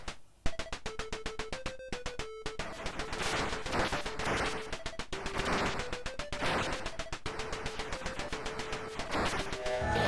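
Regular rapid shooting in Capcom's arcade shoot-em-up Vulgus, a steady stream of short retro blasts ticking along under a bleepy chiptune melody, with occasional heavier explosion bursts.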